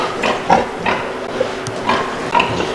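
Pigs grunt and snuffle on a pig farm in Nordbakken, Denmark, in 1985: scattered short, low grunts over a steady hiss of barn noise, with no talking.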